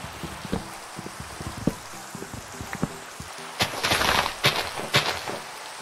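Rain falls in the video game Minecraft, a soft patter broken by sharp taps and clicks, then a louder burst of crackling hits toward the end, with no voices.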